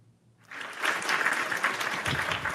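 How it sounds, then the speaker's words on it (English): Studio audience bursts into warm applause for a guest after a brief quiet start, the clapping rising quickly and holding dense and steady to the end. "Y'all give her a big warm of applause"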